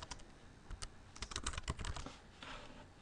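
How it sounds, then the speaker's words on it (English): Close, quiet typing on a computer keyboard, a quick irregular patter of key clicks running steadily for a few seconds with no speech. "So I'll go ahead and just type in a simple description."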